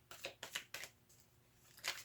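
Tarot cards being shuffled by hand, four quick soft riffling bursts in a loose rhythm with a pause before the last, faint and close with no speech.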